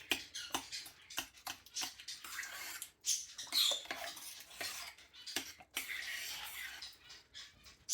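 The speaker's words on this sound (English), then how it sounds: "So give that a stir." A spoon clinks and scrapes against a crock pot as a beef stroganoff meat mixture is stirred, quick close metallic taps and wet swishes in an uneven rhythm, fairly quiet.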